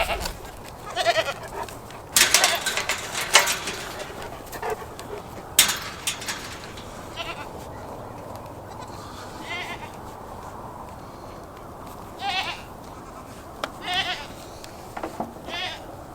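Young goat kids in a farm pen bleat in scattered bursts, several calls of moderate loudness at a short distance, with quiet gaps of background between them.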